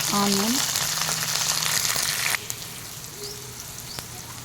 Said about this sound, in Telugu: పచ్చిమిర్చి, కరివేపాకు ఇలా కొంచెం ఫ్రై చేసుకోవాలి